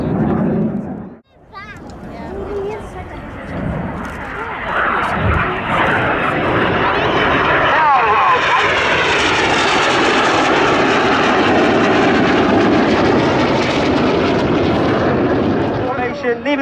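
Red Arrows, the Royal Air Force aerobatic team, fly their jets overhead during an air display, a loud sustained roar that swells and fills the air before staying steady, with a crowd and announcer's voice heard faintly at times.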